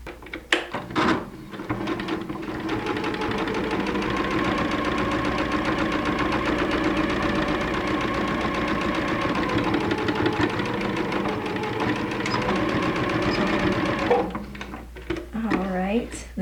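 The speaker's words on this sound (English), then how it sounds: "We will now go back to the sewing machine and just close the area that had been open." A sewing machine stitching the seam closed on a pair of pajama pants, running in a steady, loud mechanical whir and rapid rhythmic clatter for about twelve seconds, with brief handling sounds before and after.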